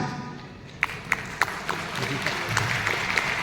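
Sparse, scattered clapping from an audience at a crypto lottery launch event, a few sharp individual claps first, then thickening into thin, lukewarm applause under a room hum.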